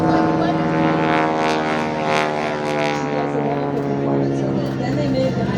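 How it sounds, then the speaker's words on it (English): A North American T6 Texan trainer flies at an airshow, its propeller engine holding a steady, loud harmonic drone throughout, with a faint voice underneath. "the advanced trainer, which is this aircraft, the T6"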